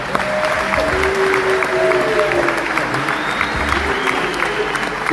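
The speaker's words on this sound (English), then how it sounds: "Round of applause, guys." Steady audience applause fills the room for about five seconds, a thick wash of clapping with faint voices mixed in beneath it.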